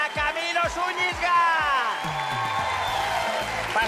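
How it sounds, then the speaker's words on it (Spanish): Studio audience applause and cheering for footballer Camilo Zúñiga on a TV talk show, a broad steady wash of crowd noise with voices and some thumping sounds over it. "¡Un aplauso para Camilo Zúñiga!"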